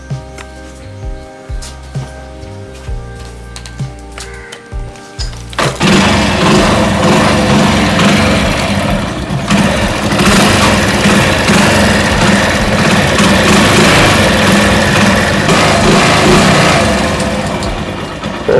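A Hero Honda Passion motorcycle engine starts after a spark plug cleaning, following a few quiet clicks, then runs steadily and loudly up close with a busy, rattling idle that holds to the end.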